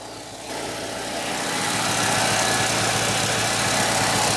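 A 1989 Chevy S10 abandoned for 22 years idles with its alternator charging, a steady rumbling engine hum that swells after a moment and holds, close and continuous with a faint whine on top.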